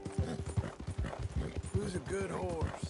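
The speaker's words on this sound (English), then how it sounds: "Who's a good horse?" A horse in Red Dead Redemption 2 trots with rhythmic clip-clop hoofbeats and lets out a whinny near the end, while someone talks over it.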